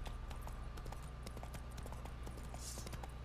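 Hooves of Roach, the horse in The Witcher 3, clip-clop at a steady trot over a constant low game ambience, the beat running without pause the whole way through and no voices.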